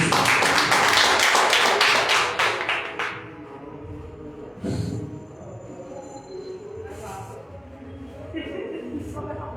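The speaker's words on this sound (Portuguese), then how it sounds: "Palmas para Jesus" Church congregation clapping in a burst of dense, loud applause during a worship service, fading after a few seconds into room murmur and scattered voices, with a few later isolated claps and sounds.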